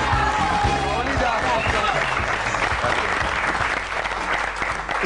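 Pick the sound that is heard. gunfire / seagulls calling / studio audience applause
studio audience applause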